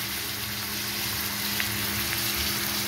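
Spices sizzle steadily in hot oil in a pan for a Bengali fish curry with fish-roe fritters, a continuous close frying hiss with no talk.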